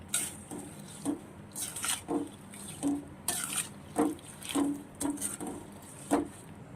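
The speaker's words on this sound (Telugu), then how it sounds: "వేయించుకున్న కాకరకాయ ముక్కల్ని ఇందులో కలపాలి బాగా మిక్సింగ్ అయ్యే వరకు" Fried bitter gourd pieces being mixed into a chutney with a utensil against a bowl, giving a steady series of short scraping, clinking stirs in an irregular rhythm, close and fairly quiet with no talking.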